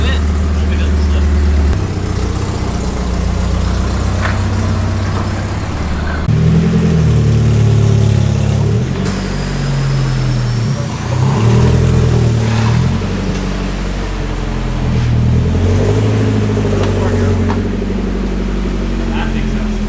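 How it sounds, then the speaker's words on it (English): A car engine with a badly leaking exhaust, fitted with a cheap eBay clutch kit, revs up and drops back several times in rough, loud bursts, heard close up with talk over it. "it's because the exhaust is the fattest leak in the world"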